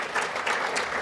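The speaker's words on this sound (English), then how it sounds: "I don't want you to halt your applause." Steady audience applause in a main auditorium at a symposium after a presentation, a dense continuous patter of many hands at moderate loudness.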